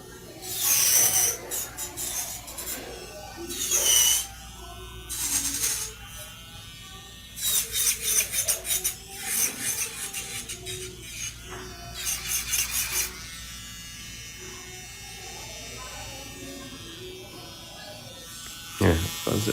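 An electric nail drill with a sharp bit filing between the cuticle and the natural nail bed, buzzing in short repeated bursts of a second or two with pauses, the whine rising and falling as pressure changes.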